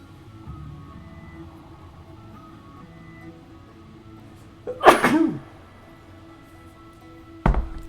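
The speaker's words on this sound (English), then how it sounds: "I'm about to sneeze." A single loud, sharp human sneeze bursts out near the middle over a low background hum, followed a few seconds later by a brief thump.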